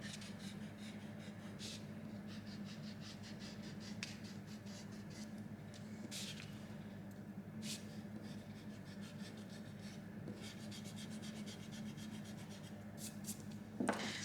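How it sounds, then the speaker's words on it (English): An eraser rubs out pencil lines on paper during a cotton wool texture painting, making a faint, continuous scratchy rubbing with a few sharper strokes. "So just rub out my little lines that I had in there before."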